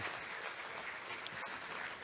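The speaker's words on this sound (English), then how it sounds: "let us give them a round of applause once again" Conference audience applauding steadily, a dense even wash of clapping at moderate distance with no pauses.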